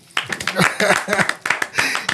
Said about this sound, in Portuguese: Então quero receber aqui com palmas para Thiago Biazetto.